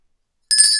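A short bright bell ring strikes after a brief silence, a sharp metallic ding that rings on for a moment, close and loud.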